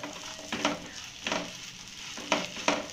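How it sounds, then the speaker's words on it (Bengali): Potato and peanuts frying with spices in a pan, a low steady sizzle broken by four short bursts of scraping as the mixture is stirred, with no voices. "এখানে আলুটাকে আমি মশলার সঙ্গে কিন্তু খুব ভালো করে ভেজে নিতে হবে"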